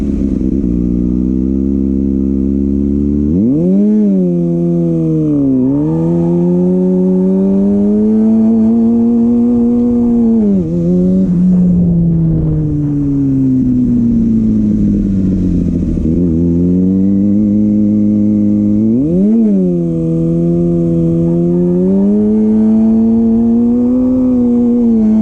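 Kawasaki ZX6R motorcycle engine revving during rolling burnouts, repeated rising and falling high-pitched wails held at loud close range with sharp surges throughout.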